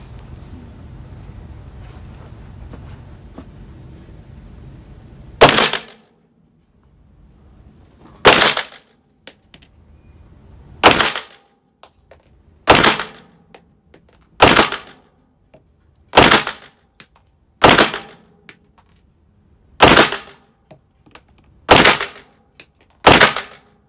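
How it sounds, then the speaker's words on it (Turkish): Ten sharp pistol shots from an HS SF Match 19 suppressor-capable handgun fired at a target from 10 metres, spaced a couple of seconds apart, loud and alone after a few seconds of wind-blown background. "Silah ve hedef gözükecek şekilde atalım."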